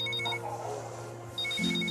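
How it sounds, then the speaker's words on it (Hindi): A phone ringtone sounds in two bursts of bright repeating beeps, one at the start and one resuming after a short pause, with a low background hum and no speech. "तुम्हारा फोन बज रहा है"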